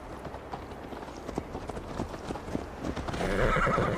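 Horse hooves clip-clop at a steady gallop in Assassin's Creed Valhalla, close and continuous, with a neigh near the end as the ride picks up; no talking.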